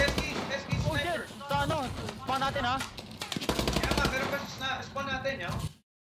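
Rapid automatic gunfire and bursts from Call of Duty: Advanced Warfare on Xbox One, heard close and loud in short bursts under near-constant excited voices talking over it.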